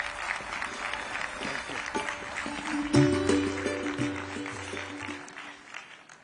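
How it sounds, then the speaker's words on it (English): Audience applause at an AI development summit in New Delhi, dense clapping across the full length with a swell near the middle, mixed with lower musical tones and a faint voice over a sound system. "Please give a round of applause."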